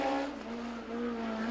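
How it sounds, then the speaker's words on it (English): A Honda-powered USAC midget race car at Lawrenceburg Speedway drones steadily down the backstretch during qualifying, its engine a loud, sustained high-pitched howl with no talk over it. "A Honda-powered Midget."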